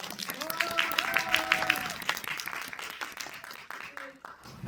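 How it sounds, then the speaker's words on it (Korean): Audience applause in a CGV Yongsan cinema hall during a film Q&A event, a brief burst of clapping mixed with voices that fades within a few seconds. "박수로 한번 부탁드립니다"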